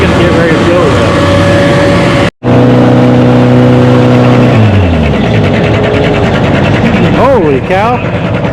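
A John Deere 730 tractor at a fall tractor pull, hauling an 8,000-pound sled: a loud, close engine holds a steady rumbling note after a short break, then its pitch shifts as it works under load, with revving surges near the end.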